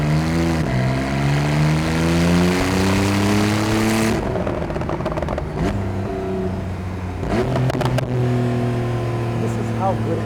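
Porsche 991.2 Carrera 4 GTS engine heard from inside while driving, revs climbing and falling through several gear changes, loud and close, with a person talking over it.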